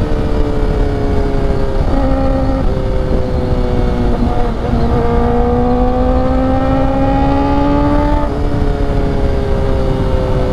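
Kawasaki ZX-4R motorcycle engine revving loudly and continuously while riding at night through city streets, its high-pitched whine rising and falling through gear shifts, steady and close, with no talk.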